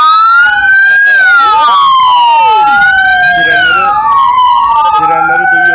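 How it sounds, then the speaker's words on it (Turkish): Loud wailing sirens from emergency vehicles at a traffic accident, several overlapping tones sweeping up and down continuously, close by, with faint talk beneath. "Sirenleri duyuyorsunuz."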